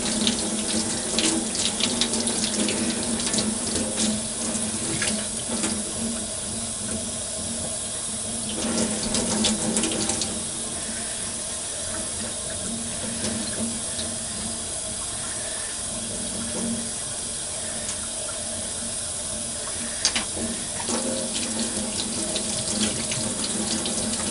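Tap water runs steadily into a sink while makeup brushes are rinsed under it, a continuous close splashing stream with brief louder surges and no talk.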